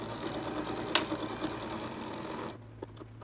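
A sewing machine runs steadily, stitching an eighth-inch seam around a reusable cloth period shield, its rapid needle clatter continuous for a few seconds before stopping abruptly near the end, leaving a couple of faint clicks.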